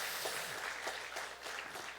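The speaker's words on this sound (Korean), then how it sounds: "박수 한번 더 하겠습니다" Applause from an audience at a university chapel worship service, a steady, moderately faint wash of clapping that carries on evenly for the whole moment.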